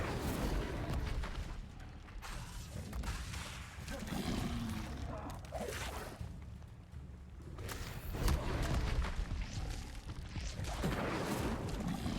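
Repeated fire spell blasts from Hogwarts Legacy, heavy roaring bursts and booming whooshes layered over continuous game music and effects, loud throughout the stretch.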